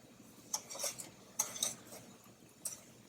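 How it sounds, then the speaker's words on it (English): Spoon stirring sugar into peach jam in a pot: a few light scraping clinks against the pan at irregular intervals, faint and close, with no talk. "And then I'm going to stir that to dissolve the sugar."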